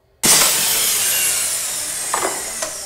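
Circular saw cutting MDF board for a ceiling installation: the blade bites in abruptly with a loud, bright whine and steady rasping cut, carrying on evenly with a couple of small knocks near the end.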